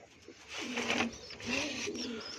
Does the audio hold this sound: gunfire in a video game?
no